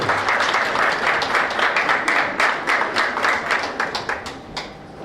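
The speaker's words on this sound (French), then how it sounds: "Sous vos applaudissements, s'il vous plaît." Sustained audience applause at a French science-communication contest (Ma thèse en 180 secondes), dense and loud throughout with a slight fade at the end.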